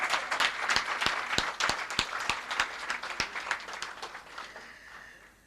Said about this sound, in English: I want you to give her another big round of applause.